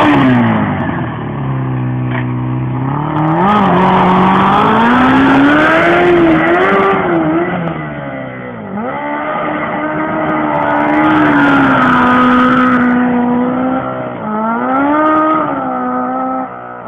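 A homemade go-kart nicknamed Frankenstein, fitted with a regular clutch and shifter, revs its engine loudly and steadily for the whole stretch, the pitch climbing and dropping through repeated throttle blips close by, with no talk over it.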